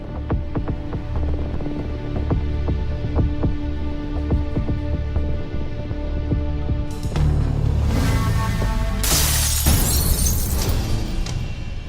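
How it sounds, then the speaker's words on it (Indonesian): A house window's glass smashing and shattering, a sudden bright crash late in the clip following a steady low throbbing hum. "Siapa yang mecahin kaca jendela rumahku ya?"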